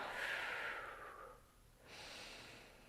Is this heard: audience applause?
no